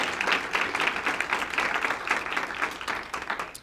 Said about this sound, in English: I want to give Mary a special round of applause for her hard work in putting this evening together.